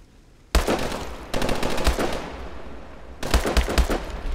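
Bursts of rapid automatic gunfire from the Call of Duty Advanced Warfare video game, loud and close, in three long volleys separated by short pauses with no talk.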